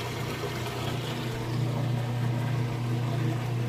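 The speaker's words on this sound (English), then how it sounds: "You can hear it draining all that water out nice and fast." A Kenmore electric washing machine drains water before its final spin, giving a steady low pump hum with a faint watery rush. The sound is moderately quiet and unbroken, swelling slightly partway through.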